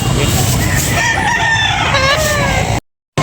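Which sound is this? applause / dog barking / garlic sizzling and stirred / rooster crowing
rooster crowing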